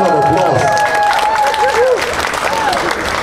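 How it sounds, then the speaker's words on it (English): Guests applaud the groom at an outdoor garden wedding ceremony, continuous clapping and crowd noise with overlapping voices and some tonal sounds throughout, fairly loud and close. "Let's give Jonathan a round of applause."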